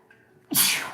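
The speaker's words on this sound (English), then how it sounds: "I'm going to sneeze." A single sharp sneeze bursts out after a quiet moment, loud and close, with a breathy hiss trailing off.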